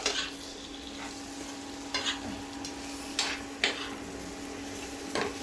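Chicken fries in a pan for Kerala-style biryani, sizzling steadily while a spoon stirs it, with several sharp scrapes and clinks against the pan over the hiss.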